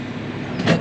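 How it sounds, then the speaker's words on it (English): Car passing on a farm road, a short engine and tire whoosh rising to a brief peak near the end, fairly close and alone. "Car."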